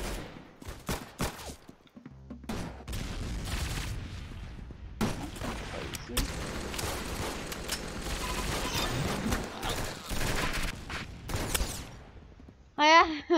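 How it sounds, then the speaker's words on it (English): Weapons firing in the Roblox shooter Arsenal, scattered clicky shots and rapid bursts crackling throughout, loud near rounds mixed with rattling bursts, while a player talks over them. "Those click guns."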